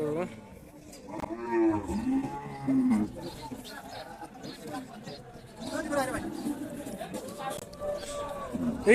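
Cows at the Kalampur cattle market in Dhamrai low and moo repeatedly, several drawn-out calls close by, mixed with people chatting and bargaining around the animals.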